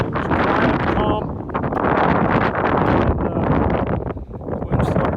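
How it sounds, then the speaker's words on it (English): Strong gusts of wind buffet the microphone on a mountain during a storm, roaring loudly in surges that ease briefly near the middle and again toward the end. "the wind started one more time"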